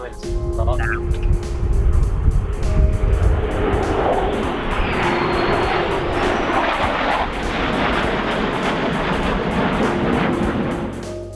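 A jet at full afterburner in a flight simulator game gives a loud, continuous engine roar throughout, with people talking over it.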